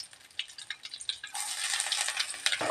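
Crushed ginger and garlic with chilli and curry leaves fry in hot coconut oil, a soft scraping stir giving way to a loud, dense sizzle that swells midway and holds close up, with no talking.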